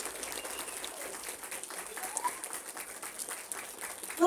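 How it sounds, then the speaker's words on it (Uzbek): Audience applause at a school literature event honouring a vocal group: steady, dense clapping from many hands continues evenly throughout, with a brief louder swell at the very end. "Hamma qarsaklar Nasib opa uchun, hamma qarsaklar vokal guruhi uchun."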